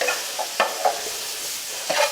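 Bacon frying in a pot as its fat renders gives a soft sizzle with a few brief stirring scrapes and pops, close and fairly quiet.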